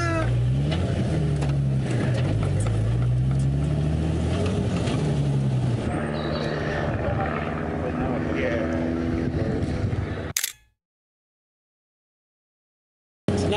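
A custom 1955 Ford F100 pickup on a Nissan 370Z chassis drives along, its engine a steady loud drone with rising and falling revs and wind noise, then cutting off abruptly near the end.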